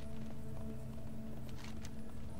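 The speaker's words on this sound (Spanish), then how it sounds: "Yo aquí voy en mi cerdo." Hoofbeats from a pig mount trotting in the World of Warcraft video game clip-clop in a quick, steady rhythm, close and continuous over a low ambient hum.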